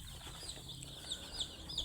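Chickens on an Indonesian poultry farm cluck softly amid a steady barn hum, with scattered faint bird calls and chirps over continuous background noise.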